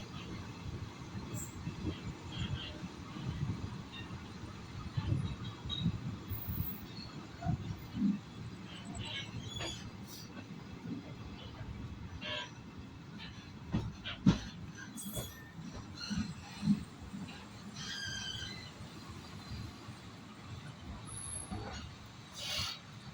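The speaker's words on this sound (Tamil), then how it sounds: "நம்ம ட்ரெயின் இப்போ விருதுநகர் ஜங்ஷன்லேருந்து கிளம்பிருச்சு." A sleeper class train leaving Virudhunagar Junction gives a low, steady rumble of wheels on track with scattered clanks and faint squeals, quiet and continuous throughout, with occasional faint voices in the background.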